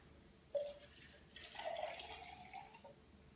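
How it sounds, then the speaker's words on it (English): A little more than half a cup of water poured into a Shakeology shake container: faint, brief splashes and a soft trickle, quiet against the room. "And then you add your water. Again, you add a little more than half a cup of water in there."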